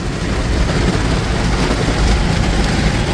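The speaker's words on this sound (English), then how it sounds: "as you can see, it's pouring now." Dense, loud rain in Naperville, Illinois roars steadily with a broad hiss and low rumble, a continuous downpour without pauses.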